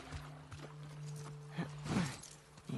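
Horse hooves clip-clop in the video game The Last of Us Part II, faint and sparse steps over a quiet background with soft tonal sounds.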